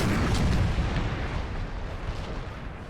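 Artillery fire thunders across a Napoleonic battlefield in Napoleon: Total War, a heavy cannon boom opening loud and then rolling off into a long, fading rumble, with no one talking.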